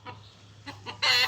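A chicken clucks close by in a village household, a few short soft calls followed by a louder, sharper squawk at the end.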